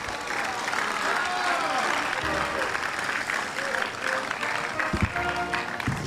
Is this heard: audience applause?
yes